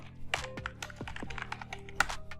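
Quick keystrokes on a computer keyboard while entering a git config email setting, a close series of crisp, uneven clicks and thunks with short gaps and no talk.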